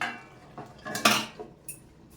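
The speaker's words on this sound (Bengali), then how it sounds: "আরও 5 মিনিট ঢাকা দিয়ে দিই।" A metal lid clanks onto a pot of cooking chicken, a few sharp clattering knocks and a bright ringing clink, brief and close with no talking.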